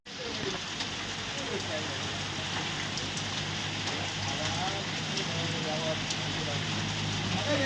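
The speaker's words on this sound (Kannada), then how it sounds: "ಒಂದು ವಾರಗಳ ಕಾಲ ಶಾಂತವಾಗಿದ್ದ ಮಳೆರಾಯ ಈಗ ಮತ್ತೆ ಆರ್ಭಟಿಸಲು ಶುರು ಮಾಡಿದ್ದಾನೆ" Heavy early-morning rain in Basavakalyan, North Karnataka, a steady dense hiss of downpour on surfaces that stays constant throughout, with a faint low hum beneath.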